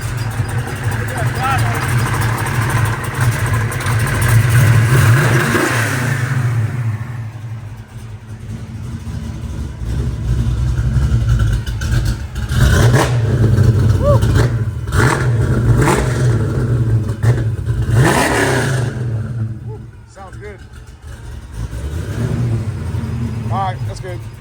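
A Ford 351 Windsor stroker V8 with an aggressive choppy cam runs close and loud, lumpy idle rising into several sharp revs and falling back, while people talk in places over the engine.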